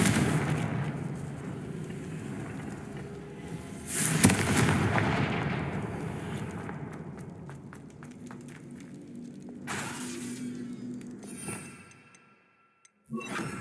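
Confringo fire-spell explosions in a Hogwarts Legacy battle, a run of sharp blasts and crackling bursts over a dense rumbling background, with a heavy boom near the start and scattered snaps later.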